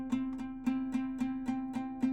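A single note repeated on a vihuela, eight evenly spaced plucks of the same pitch, close and moderately quiet, each ringing briefly before the next, with no voice.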